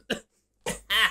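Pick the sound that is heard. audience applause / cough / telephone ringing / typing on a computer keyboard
cough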